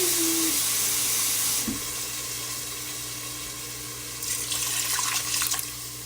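Water pours into a pot of Zuppa Toscana soup on the stove, a close, steady splashing rush that stops, leaving a soft simmer, then swells again in a second brief pour.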